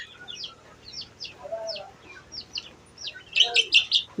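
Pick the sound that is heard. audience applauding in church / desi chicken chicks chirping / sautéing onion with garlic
desi chicken chicks chirping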